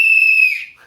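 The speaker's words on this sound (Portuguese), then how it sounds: "Momento do apito." A single sharp whistle blast at a celebration the day after Purim, loud and steady for about half a second, then tapering away with a faint tail.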